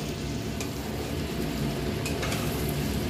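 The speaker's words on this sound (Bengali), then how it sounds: "এবার আবার ঢাকাটা খুলে একটু নাড়াচাড়া করে" Chicken bahari frying in a pan, a steady close sizzle with scraping stirring strokes throughout and no talk.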